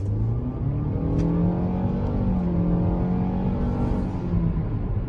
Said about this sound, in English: we're gonna straighten this guy out here once we get in the straightaway and give it a little bit of gas